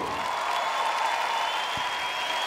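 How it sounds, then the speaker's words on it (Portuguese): A church conference audience claps in a steady, dense wash of applause that holds evenly throughout, close and fairly loud with no voices standing out. "Vamos receber com uma salva de palmas forte a Jesus"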